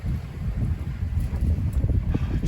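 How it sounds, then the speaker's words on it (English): Steady low, rumbling wind buffeting the microphone outdoors in the Everglades, continuous and fairly loud throughout, with no voices. "now it's become quite windy"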